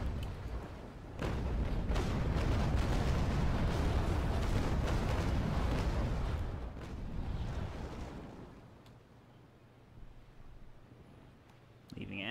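A broadside of ship cannon fire during a raking shot in the age-of-sail naval battle game Naval Action, a long rolling rumble of overlapping blasts that swells, then fades to faint sea ambience with occasional distant thuds.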